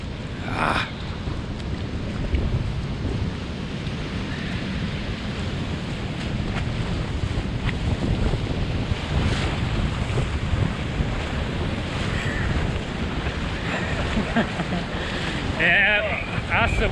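Powerful sea waves surge and break continuously, mixed with strong wind buffeting the microphone, loud and close throughout with a few brief voices.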